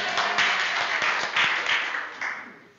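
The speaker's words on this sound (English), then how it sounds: "Let's have a round of applause for somebody who knows what he's doing." An audience at a keynote presentation gives a brief round of applause, dense clapping that swells and then fades away over a few seconds.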